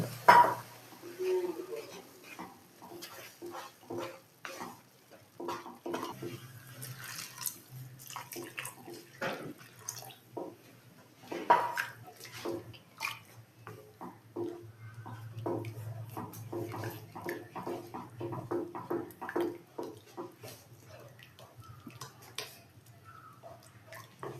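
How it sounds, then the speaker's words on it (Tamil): Rava being stirred with two cups of water in a pan for milk kesari, making repeated wet sloshing and scraping strokes close up, fairly quiet, with a low background hum and no clear talk. "இப்போ இந்த கப்புலேயே ரெண்டு கப்பு வெந்தி நல்லா கலக்கி விட்டுருங்க"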